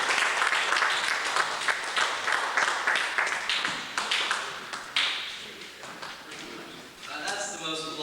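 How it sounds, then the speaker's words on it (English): Comedy-club audience applause and cheering for a stand-up comedian, a dense burst of clapping with rhythmic surges that gradually fades, followed by the start of a voice. "That's the most applause I've ever had for my last name."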